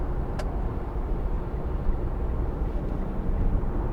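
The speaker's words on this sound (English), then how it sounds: "The revs are going up, but the speed of the car is not increasing" A 2010 Mitsubishi Outlander 2.2 DI-D diesel engine drones steadily with a slipping clutch, heard from inside the car as a continuous low rumbling roar without talk.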